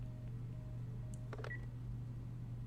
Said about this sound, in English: Got that fast, busy signal going on.